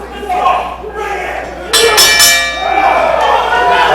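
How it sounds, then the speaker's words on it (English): Wrestling ring bell clanging repeatedly during a double disqualification in a UCW match, bright metallic strikes over a loud crowd and announcer commentary. "Another call for the bell"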